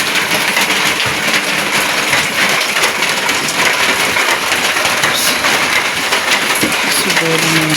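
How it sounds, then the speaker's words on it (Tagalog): A loud, dense roar of heavy rain pours down steadily, with muffled voices talking underneath. "sobrang lakas ng ulan guys"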